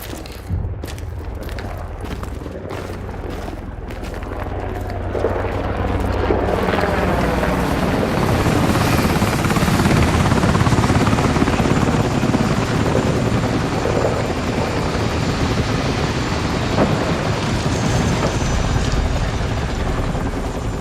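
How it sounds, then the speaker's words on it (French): Helicopter arriving in the Battlefield 6 video game, its rotor thudding in rapid beats at first, then swelling into a loud, dense roar of blades and wind that fills the scene for about twenty seconds, with no voices. "Carter, notre hélico arrive."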